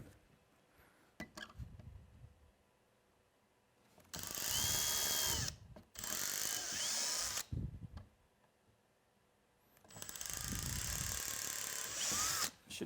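Power drill driving screws into a vehicle bumper, three loud whirring bursts of a few seconds each separated by quiet pauses, close up with no talk.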